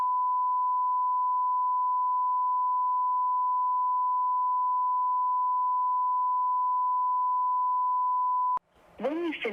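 A single long, steady voicemail beep holds at an even pitch for about eight seconds. Then it cuts off and a person begins speaking.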